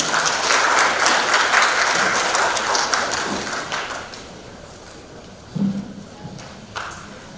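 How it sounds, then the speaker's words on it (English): Loud audience applause at a formal tax and governance event swells for a few seconds, then tapers off into scattered claps and room noise. "Please, a round of applause for him."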